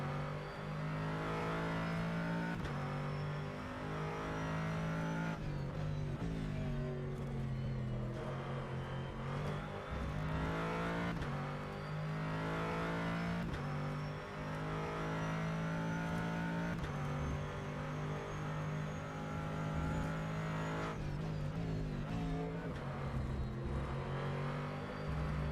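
A Corvette GT3 race car's engine in rFactor 2 at Sebring revs high and hard through the gears, a continuous loud whine rising and dropping at each shift with no talk.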